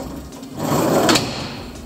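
A fire engine compartment drawer holding hand tools for vehicle extrication slides open or shut in one brief sliding rumble that swells and fades, close and moderately loud.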